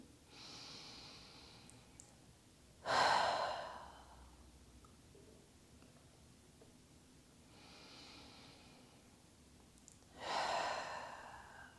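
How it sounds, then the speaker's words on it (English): Two slow, deep breaths during a lying psoas stretch, each a soft, drawn-out exhale several seconds apart, close and quiet with silence between. "One more slow, deep breath."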